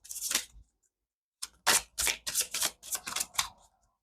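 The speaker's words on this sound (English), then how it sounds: "One more shuffle just to make sure." A tarot card deck is shuffled in a string of crisp, papery bursts: one quick riffle, a pause, then several rapid rustling flurries close by.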